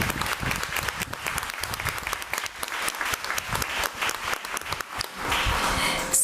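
Dense, sustained applause from an audience at a committee meeting honoring students, loud and continuous with many overlapping claps and no speech.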